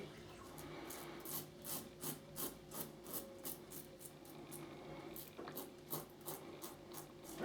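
Razor wet shaving against the grain of facial hair, a series of close, quiet scratchy strokes in an uneven rhythm with soft rasping between.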